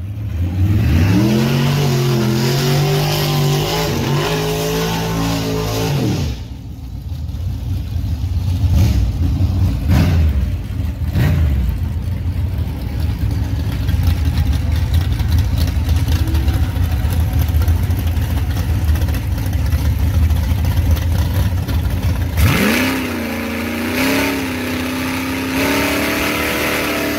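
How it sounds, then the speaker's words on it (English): A drag racing truck at a Moparty event revs hard with rising engine pitch, goes quieter mid-pass, then roars back loud and close near the end. "I love watching that truck race."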